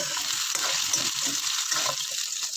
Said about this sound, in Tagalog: Iprito muna natin. Brown lang siyang konti bago natin hanguin yung patatas.